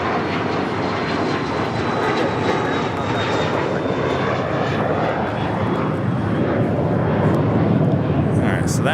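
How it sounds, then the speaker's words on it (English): A Cathay Pacific Boeing 777-300ER jet on Flight 885 departs LAX for Hong Kong, a broad, steady roar of engine noise that swells slightly toward the end, continuous and fairly close. "So that is Cathay Pacific, Flight 885, heading back to Hong Kong in this 777-300ER."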